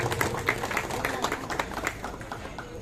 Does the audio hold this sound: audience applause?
yes